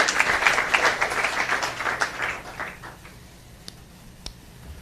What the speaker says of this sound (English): I think we can give that a round of applause